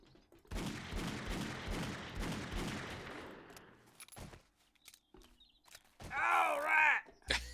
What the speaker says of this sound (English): Were you shooting the pistol to give you a boost?